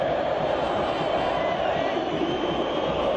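Atlético fans in a packed stadium at a Libertadores final, a dense, steady roar of crowd noise from far off, with a commentator's voice faint underneath.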